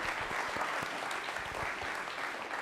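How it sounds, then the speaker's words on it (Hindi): A studio audience at a Republic Day quiz programme claps in a sustained, even burst of applause. It sounds fairly soft and somewhat distant. "इस बार तालियां जोरदार बजनी चाहिए इसके लिए।"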